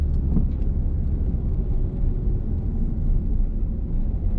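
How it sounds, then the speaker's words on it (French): A car engine slows as the driver lifts off the accelerator, a steady low rumble holding at a moderate level with no talk, heard from inside the car. "On va lâcher l'accélérateur."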